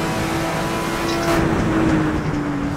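A race car in the Assetto Corsa driving game, a loud sustained engine drone with a thin, high transmission gear whine rising in pitch over it, no voices.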